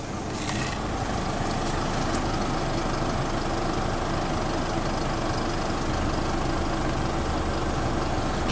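A 14-plate 4WD car's engine idles steadily at close range, an even low rumble with no revving, after a brief start-up clatter at the very beginning.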